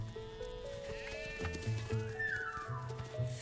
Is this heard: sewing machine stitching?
no